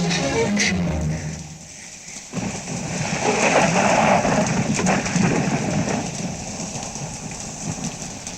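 Steady rain from a Telugu film scene, Varsham, pours as a dense continuous hiss with low rumbling that suggests distant thunder, filling the whole clip without voices.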